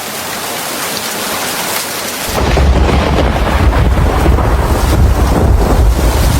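Heavy rain roars in a dense wash of noise, growing louder and deeper partway through with gusty wind buffeting close by.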